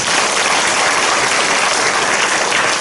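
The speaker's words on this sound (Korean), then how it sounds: "우리 주님께 영광의 박수 드립니다." Sustained, loud applause from a church congregation at a revival service, many hands clapping in a thick continuous roar with no talking over it.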